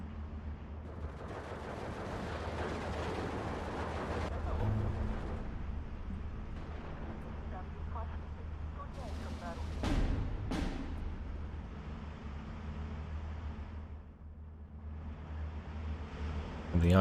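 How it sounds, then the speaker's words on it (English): Artillery fire in the Steel Division 2 war game: a sustained roar of booming shots and blasts lasting throughout, with heavier detonations standing out near the middle, loud and without talk. "I'm really hoping that my artillery can actually kill that."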